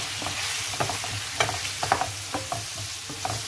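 A spoonful of an ingredient is sautéed in a pot while cooking a Turkish home meal of boiled meat, vermicelli bulgur pilaf and lentil soup. It sizzles steadily and loudly throughout, with a spoon repeatedly scraping and stirring the pot in an irregular rhythm.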